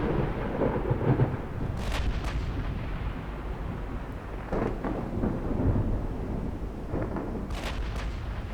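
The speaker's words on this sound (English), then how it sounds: "I wonder if any of the other guys spent points on making it not stormy." Stormy weather in the naval battle game Ultimate Admiral: Dreadnoughts, with a steady rumble of rain and wind broken by several deep thunder-like booms spread across the stretch.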